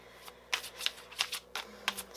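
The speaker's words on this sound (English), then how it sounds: "I'm live shuffling these cards" A deck of tarot cards is shuffled by hand nearby, a series of quick crisp riffling bursts in an uneven rhythm over a quiet room.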